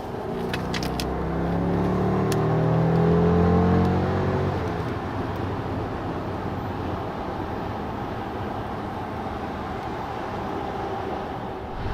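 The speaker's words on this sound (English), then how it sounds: "So right now we are on the autobahn, and we can enjoy the full road for us." A 2021 Mercedes S580 sedan cruising on the autobahn, with steady broadband road and tyre roar throughout, a louder swell of low drone early on that settles into an even, continuous rush.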